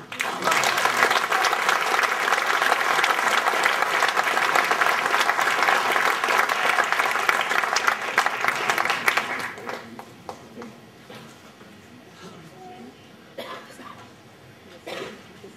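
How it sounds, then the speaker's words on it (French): Audience applause welcoming Patrick Bilot: a loud, dense ovation runs steadily for about nine seconds, then drops off to scattered coughs, shuffling and faint room noise. "j'invite avec vos applaudissements Monsieur Patrick Bilot"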